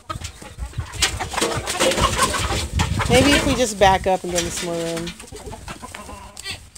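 Free-range pastured chickens cluck and squawk nearby in a dense, busy flurry, with rising squeaky calls toward the middle and people talking over the birds throughout.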